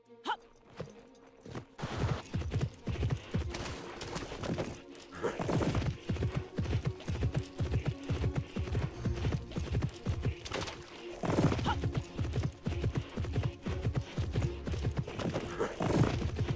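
Horse hooves clip-clop steadily in the Alexandra Ledermann horse-riding video game, a dense run of loud, close hoofbeats with occasional whinnies and game sounds mixed in.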